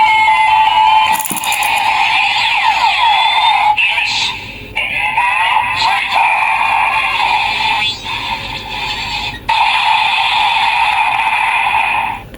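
Electronic finisher sound effect from a Kamen Rider DX Knight Invoker toy, played four times in a row: loud synthesized tones and chiming jingles that run almost without a break, with brief dips between repeats.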